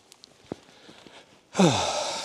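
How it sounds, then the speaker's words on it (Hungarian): Heavy, breathy panting from a person winded after a lap of walking on an outdoor overnight trip, starting abruptly after a quiet stretch with a few small sounds and continuing loud and close. "Bocs, hogy lihegek, de egy kört már mentem."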